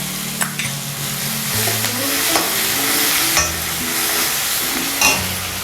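Coconut, dried and green chilli and ginger paste fries in a pan, a steady loud sizzle broken by repeated scraping stirs of a spoon against the pan, with no talk.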